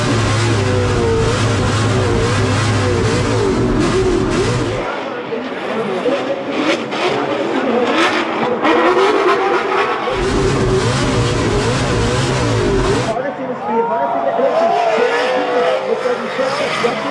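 Formula Drift cars of around 1,000 horsepower drift at Road Atlanta, their engines revving hard and tires squealing at close range, with the bursts rising and easing over a commentator talking throughout.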